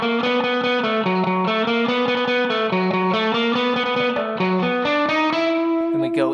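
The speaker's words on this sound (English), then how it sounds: "let's start off with the main riff, and the first 4 bars with a little pickup sound like this." Electric guitar plays the main riff of the surf song with an effects-laden, distorted tone, a steady run of quick picked notes stepping up and down, loud and close with no talking.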